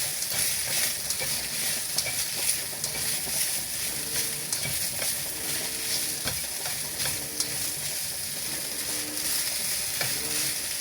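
White radish sautés in a hot pan, a continuous bright sizzle with occasional stirring scrapes and clinks, moderately close and steady with no talking.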